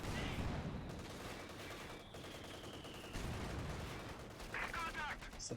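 Busy battle from a competitive real-time strategy game match: dense bursts of gunfire, sniper shots and tank cannon blasts overlap in a steady rolling din, with faint casting chatter mixed in.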